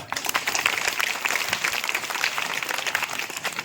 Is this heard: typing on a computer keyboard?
no